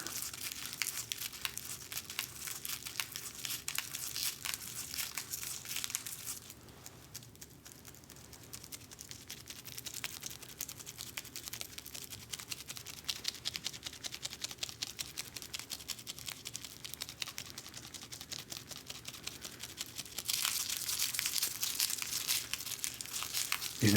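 Dry papery garlic skins crinkle and crackle close up as cloves are peeled by hand, a steady stream of fine rustling that eases off midway and then grows louder again toward the end, with no voice.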